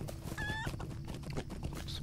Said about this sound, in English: Some chickens chirping here in the late stretches of evening.